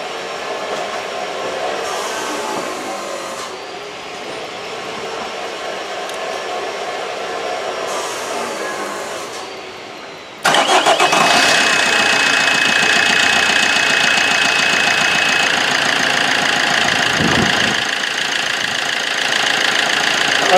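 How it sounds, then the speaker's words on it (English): A Vauxhall Corsa D 2010 1.3 CDTi diesel engine cranks and fires abruptly, then settles into a loud, steady close-up idle with a clattering diesel tone, following a stretch of quieter background noise. "now the engine has started"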